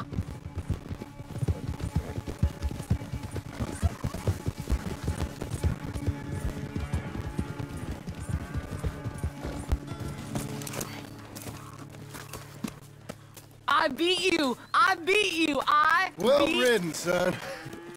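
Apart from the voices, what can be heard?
horse galloping in a race, from video game Red Dead Redemption 2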